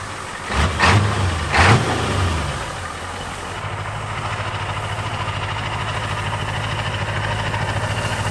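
An International road tractor truck engine revs twice in quick succession near the start, then settles into a steady, rumbling idle for several seconds, moderately loud and close, with no talking.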